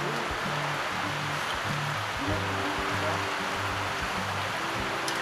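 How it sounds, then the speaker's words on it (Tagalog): Heavy rain pours steadily in a rural Batangas province setting, a dense, constant hiss with a low rhythmic thrum underneath and no voices. "Ang lakas ng ulan."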